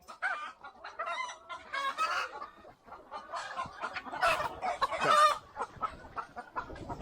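Hens cluck and squawk in a busy, overlapping chorus, several birds close by calling in irregular bursts with a louder flurry midway.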